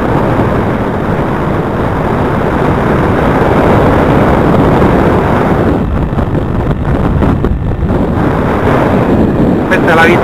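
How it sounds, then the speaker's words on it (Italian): Strong wind roars and buffets the microphone at a paragliding landing site at Serrone, Italy. The loud, unbroken rush fills the whole stretch, with faint rustling toward the end. "C'è vento forte in atterraggio."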